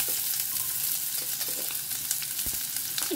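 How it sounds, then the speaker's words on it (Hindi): Chopped onions fry in hot mustard oil in a pan, giving a dense, even sizzle up close, with a few faint spoon scrapes over the steady crackle. "तो अब इसमें डालते हैं प्याज।"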